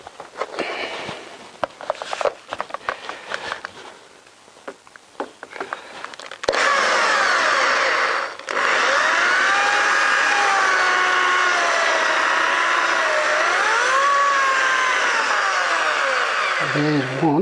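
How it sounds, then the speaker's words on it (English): A power drill bores out rivets holding the metalwork of a Honda CBR1000F motorcycle's fairing, a loud, continuous whining drone with shifting pitch that follows several seconds of clattering handling noises. "I'm going to drill these rivets out and it should come off."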